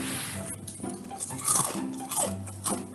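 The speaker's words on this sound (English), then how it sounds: "could you chew any louder?" Loud, close chewing with crunchy bites and wet squishing, plus a few light clinks like cutlery or dishes, in a steady run with no talking.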